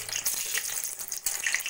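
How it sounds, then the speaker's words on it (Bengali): Lentil dumplings (bori) fry in hot oil in a kadai, giving a dense, crackling sizzle close up that runs continuously with small bursts of popping. "কয়েকটা বড়ি ভেজে নেব"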